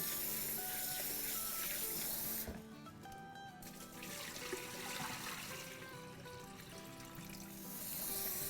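Rice grains rinsed by hand in a bowl of water to wash off dust, with steady sloshing and trickling water running continuously at close range for the whole stretch.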